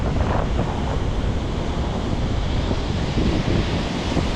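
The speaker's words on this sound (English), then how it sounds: "Maybe you can see those waves." Ocean waves on the San Diego coast at night, a loud, dense wash of surf mixed with heavy wind buffeting on the microphone, continuous throughout with no talking.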